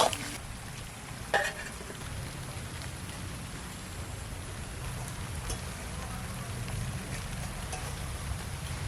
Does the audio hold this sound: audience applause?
no